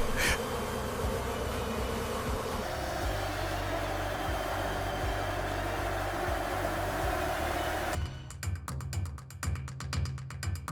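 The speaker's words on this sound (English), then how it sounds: "the idea of releasing honeybees into the desert arose as a last resort" Honeybees buzzing in a dense, continuous swarm drone, loud and close, holding steady throughout; near the end the hum thins and a rapid mechanical ticking cuts through, with no voices.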